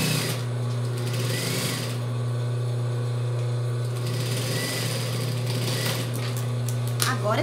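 Sewing machine stitching a zigzag overlock seam on a child's jumpsuit, a steady close whirring hum running continuously with brief pauses, while someone talks over it.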